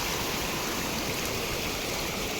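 Floodwater rushes across flooded rice fields in a dense, steady, loud torrent, a constant close roar of flowing water with no speech.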